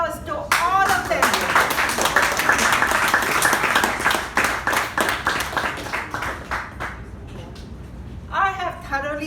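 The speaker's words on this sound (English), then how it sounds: "Let's give a big round of applause to all of them." A big round of applause for past presidents at an installation ceremony evening, dense clapping from a room of people that gradually thins out, followed by a voice speaking at the end.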